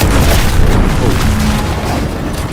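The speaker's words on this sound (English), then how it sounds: "What's that? An explosion?" A loud explosion in the video game The Outer Worlds 2 fills the clip as a dense, sustained booming rumble, followed by a steady roaring wash that lasts throughout.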